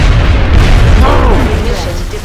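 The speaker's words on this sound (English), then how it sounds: "Bloody hell, look at that explosion radius." A large in-game explosion in the video game XCOM: Enemy Within erupts as a loud, sustained rumbling boom with crackling debris that fills the whole moment.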